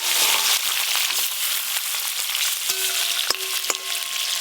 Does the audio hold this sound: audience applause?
no